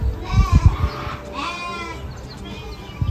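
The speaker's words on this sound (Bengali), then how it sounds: "খাসি আছে," Goats and sheep bleating at a Qurbani livestock market in America for Eid ul Adha, several wavering nearby bleats overlapping, with low thumps and crowd noise beneath.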